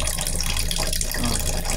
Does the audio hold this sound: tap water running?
yes